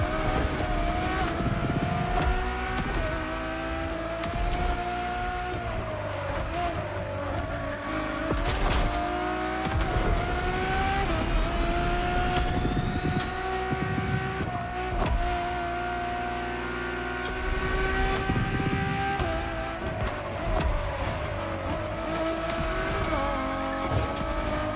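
Ferrari road-legal Formula One–style supercar engine in The Crew Motorfest, droning and revving steadily with gear shifts, pitch sweeps, tire squeal and skids, loud and continuous without talk.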